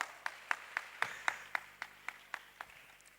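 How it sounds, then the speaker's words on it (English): A single pair of hands claps slowly and evenly about ten times, faint and somewhat distant, at a youth skills day panel session honoring a first-class PhD holder. "Please, a round of applause for her."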